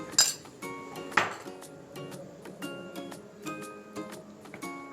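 Unniyappam batter with cardamom powder is stirred in a bowl, giving a scattering of light clinks and taps against the bowl with small scraping sounds between them, fairly quiet and close, and no one speaks.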